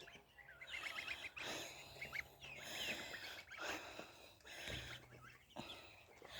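Young geese about two months old honk and chatter in short bursts on a farm, mixed with softer chirping calls. The calls come close but fairly quiet, with brief pauses and faint rustling between them.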